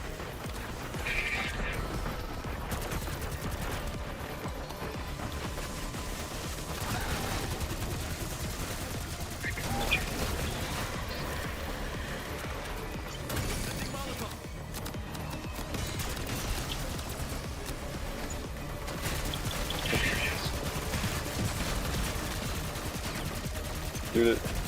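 Gunfire from the Black Ops 6 zombies game rattles on in repeated bursts and single shots throughout, layered with game effects and a player talking over it.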